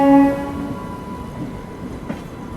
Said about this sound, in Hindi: संघमित्रा एक्सप्रेस। ये निकल रही है पंडित दीनदयाल उपाध्याय जंक्शन से।